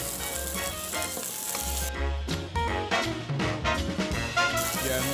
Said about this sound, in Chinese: 羊蝎子咧， 係咪要煎佢？